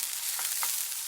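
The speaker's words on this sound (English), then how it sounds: "It's frying peppers and onions, but that part's with a wooden spoon." Peppers and onions fry in a pan, a soft continuous sizzle with two faint scrapes of a wooden spoon stirring, close and quiet, no voices.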